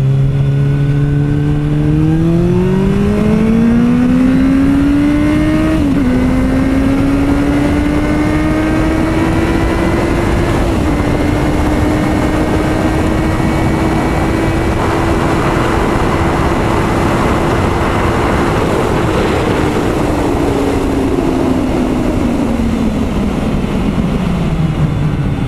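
Suzuki Bandit 650 motorcycle engine revving up through its rev range while riding, a loud continuous engine note climbing through gear changes and holding high RPM before easing off near the end.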